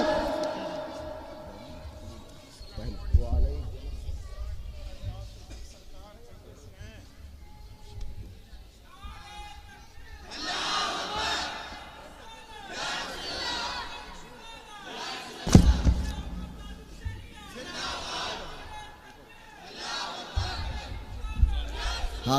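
Crowd at a religious gathering chanting slogans in unison, loud collective call-and-response bursts repeating several times, with a speaker leading the chants between them.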